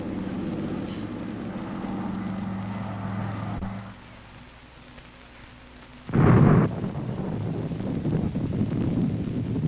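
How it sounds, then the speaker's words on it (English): An enemy bomber aircraft from a US Air Force film flies overhead as a low, rough rumbling roar. The roar dips quieter partway through, then returns with a sudden loud burst and continues. "Now, this is an enemy bomber."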